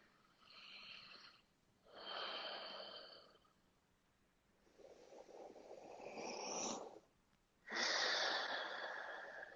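Deep, slow breaths during a power yoga flow, heard close and soft as four long airy inhales and exhales in an even rhythm with short pauses between them and no talking.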